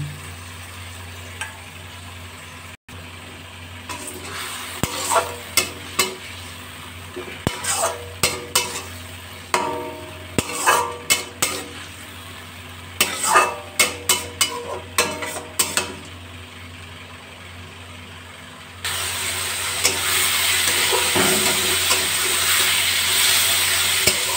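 A spatula scrapes and stirs fried bitter gourd in a pan with added water, in quick repeated bursts over steady frying noise, ending in a louder, continuous sizzle.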